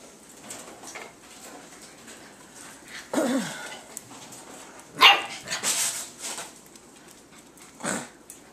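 Seven-week-old puppies yelp and bark in a few short, scattered bursts, with a soft whimper between them, fairly close in an otherwise quiet room.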